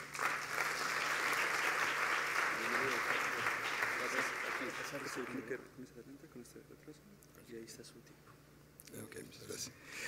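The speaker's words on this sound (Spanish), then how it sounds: "Vamos a recibirlo con el apoyo de todos ustedes y un aplauso si son tan gentiles." Audience at an education symposium applauds to welcome a speaker, a loud sustained round of clapping that dies away after about five seconds, then a quiet room with scattered sounds and murmuring.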